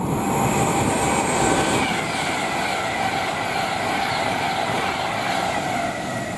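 A Class 390 electric train bound for London Euston from Manchester Piccadilly passes through Nuneaton on the West Coast Main Line, a loud, steady rush of wheels and airflow with a faint high whine, no voices.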